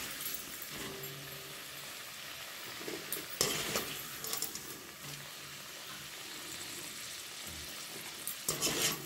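Potatoes are lifted out of hot frying oil, with a faint, steady sizzle and occasional scraping and stirring clatters of a utensil in the pan.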